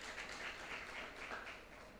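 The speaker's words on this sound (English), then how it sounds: "a very, very big round of applause to you" Soft, distant applause from the crowd at an insurance brokers' conference in Mbarara, Uganda, a low, even patter of many hands that stays faint throughout with no voices over it.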